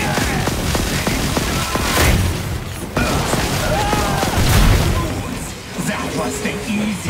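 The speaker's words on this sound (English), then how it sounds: "I shall feast a little explosion." Explosions in Killing Floor 2 during a Firebug fight with the Hans boss using a microwave gun: deep booming blasts burst amid dense, continuous game noise, with voices speaking over the action.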